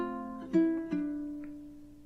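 A guitar slowly plays one measure of an Indian love song in the C5 position, a few distinct plucked notes spaced apart and left to ring, close and unaccompanied.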